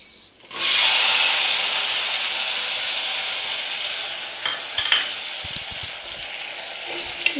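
Garlic frying in a pan while being stirred, a steady close sizzle with scraping and a few light knocks of a utensil toward the end.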